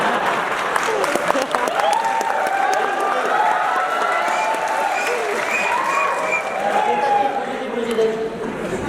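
An audience claps through a sustained round of applause at a political speech, a dense crowd of hands with murmuring and voices mixed in throughout.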